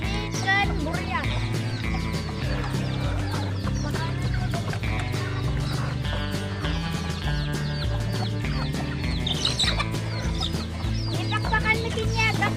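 Farm chickens clucking continuously at close range, a busy overlapping chorus of fowl calls, with a person talking and a steady droning background underneath throughout.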